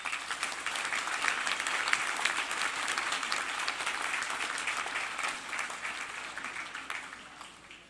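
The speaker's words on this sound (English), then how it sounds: "Give yourselves and those around you a big round of applause." Graduates of the Justice and Public Safety program at a University of Guelph-Humber convocation give a sustained round of applause: dense, steady crowd clapping filling a large hall, tapering off toward the end, with no voices over it.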